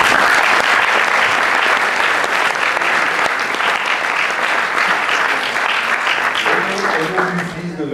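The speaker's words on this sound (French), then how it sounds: "ce tirailleur de Christian Gilibert, applaudissons-le quand même" Sustained audience applause at a film festival closing ceremony, dense loud clapping filling the hall for several seconds and tapering at the end, with someone speaking over it.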